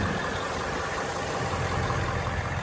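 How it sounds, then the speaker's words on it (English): A Ford Mustang GT S550 with a 5.0-litre V8 and 10-speed gearbox sits idling, its engine a steady, even, close-up rumble with no speech over it. "the engine is very massive engine, 5 liters V8"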